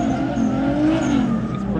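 A car drifting on a street test pad in Gomel, Belarus: a loud, steady engine drone with a rising tire squeal sweeping through it, continuous and close for the whole moment.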